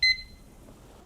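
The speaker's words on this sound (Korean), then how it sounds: "정확하게 1분을 재기 위해 타이머를 사용해 줄게요" Kitchen timer being set during spaghetti cooking, giving a loud short electronic beep at the start and another at the end, with quiet room noise in between.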